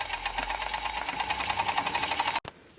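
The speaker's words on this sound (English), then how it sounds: "Back to our sewing machine." A sewing machine stitches piping onto a box cushion, running in a steady, fast mechanical rattle for over two seconds before stopping abruptly, close and clear with no talking.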